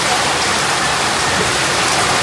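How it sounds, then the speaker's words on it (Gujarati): Steady rain pours down in a dense, even hiss that fills the whole moment without break, close and loud. "જો ધીમો પડી ગયો વરસાદ"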